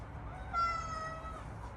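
A pet cat gives a single short, faint meow close by, rising slightly in pitch, over a quiet indoor background with no talking.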